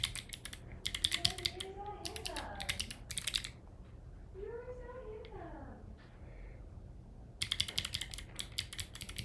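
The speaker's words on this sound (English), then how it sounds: "I hate typing this son of a bitch, and I do it all the time." Rapid clattering keystrokes on a computer keyboard come in two close bursts of typing, separated by a stretch where someone talks, with the keys starting again afterward.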